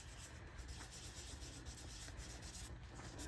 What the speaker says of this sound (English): I'm going to take one of these hand towels that I love, that I have in my office, and I'm just going to lightly go over the embossing piece